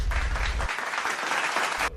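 An audience at a Hindi comic poetry recital claps in a loud burst of applause that carries on for about two seconds and then stops abruptly.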